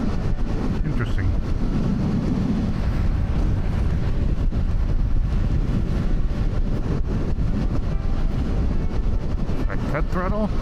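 A Kawasaki Ninja 1100 sport bike heard while riding, its engine droning steadily at speed under heavy wind rush, with a rider talking over the noise.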